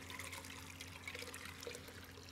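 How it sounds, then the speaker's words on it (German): Asparagus cooking water is poured out of a pot in a kitchen, making a faint, steady watery trickle and splash that runs throughout with no talk. "Und jetzt gieße ich das Wasser ab."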